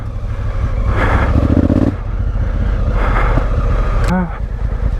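A Honda Africa Twin motorcycle engine runs in first gear under engine braking while riding through mud, a loud, close, rumbling drone that swells and eases.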